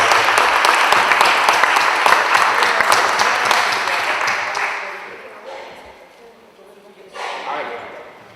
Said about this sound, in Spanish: Demos un fuerte aplauso a la profesora María Teresa Flores.